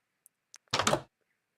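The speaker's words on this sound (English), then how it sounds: "Open the door." Door opening in Minecraft, a single short, close wooden creak-and-thunk preceded by a few faint clicks, then silence.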